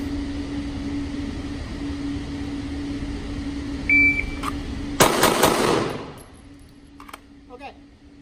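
On a shot timer drill with a Pact Club Timer III, a short electronic start beep is followed a second later by a fast, loud burst of closely spaced gunshots that ring out and decay.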